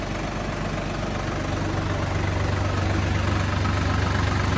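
A Solis 50 RX 50-horsepower tractor engine idles close by, a smooth, even, low rumble that holds steady throughout with no voices.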